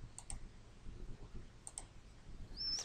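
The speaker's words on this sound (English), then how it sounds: "So I'm going to click here on Edit" Two sets of quick, faint double clicks from a computer mouse, spaced apart against quiet room tone, while selecting Edit in Inkscape.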